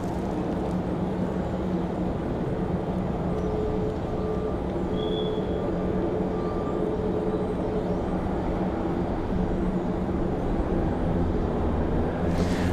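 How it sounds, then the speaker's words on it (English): Jet engine roar of an Airbus A220 airliner somewhere at Raleigh-Durham International Airport after a storm, a steady broadband rumble with faint tonal whine, continuous and fairly loud throughout, with no talking. "And I hear an A220 somewhere."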